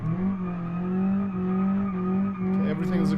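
An Ibishu Pessima drifting in BeamNG, engine droning loud and steady with sustained tire squeal, a voice speaking briefly near the end.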